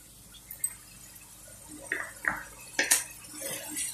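Ground mint and coriander paste being stirred into chicken biryani masala in a pot, with a few scattered metallic clinks and scrapes of a spoon against the pot and brief wet stirring sounds.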